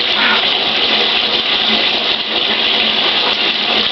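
Bathwater drains from a tub fitted with a new drain, a loud, steady, close rushing gush that holds without a break.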